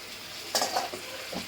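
Goat meat frying in a kadai is stirred with a utensil, making a brief scraping swish over a low, steady sizzle, with a second softer scrape at the end.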